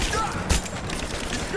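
Gunfire in Rise of the Tomb Raider, with a sharp burst near the middle among scattered shots and noisy combat sounds under shouted voices.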